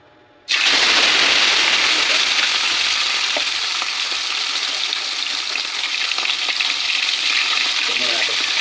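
Tilapia dropped into hot cooking oil sets off a sudden loud, close, sustained sizzle that keeps roaring steadily, with faint spatters and pops mixed in.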